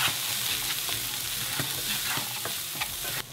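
Spoon stirring cumin, paprika and salt through peppers frying in a pan, with a steady close sizzle and repeated scraping strokes throughout.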